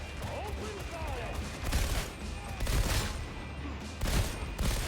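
Fusillades of gunfire crackle in Warhammer 40K Darktide, several distinct bursts at a moderate level in the middle distance, with a faint voice in the background.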